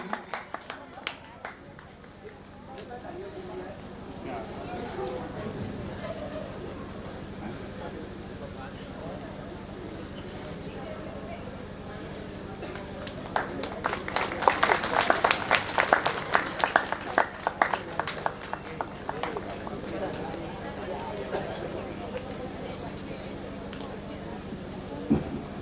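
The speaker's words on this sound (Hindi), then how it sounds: "इसमें तालियों में कमी नहीं।" Audience applause at a Ramlila closing and award ceremony in Dwarahat, with scattered claps swelling into a fuller burst midway and then fading, heard at a distance beneath an ongoing voice over a hall hum.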